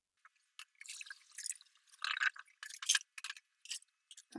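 Rinsed eggshells draining in a container, giving light irregular drips and trickles with small clinking taps, close and quiet, scattered unevenly with brief gaps and no talking.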